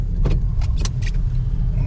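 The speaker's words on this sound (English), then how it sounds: "Now we're gonna test out the brakes." A 1970 Plymouth Valiant being driven and braked, its steady low engine and road rumble running throughout, with a few short bright squeaks and clunks as the manual brakes grab.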